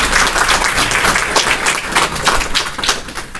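An audience at a spiritual talk claps in a short, uneven burst, individual hand claps audible as distinct taps within a moderately loud, close round of applause.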